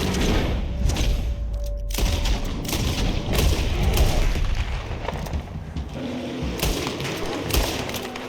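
Video game gunfire during a camping and survival scene, heavy thumping shots and rapid bursts over a loud rumbling bed, close and sustained for several seconds with no clear talk.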